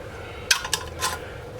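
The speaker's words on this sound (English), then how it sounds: "we're going to put the lids on and we're going to tighten them" Metal lids being hand-tightened onto jars of sweet pickle relish, three quick light clinks and scrapes close by in a quiet room.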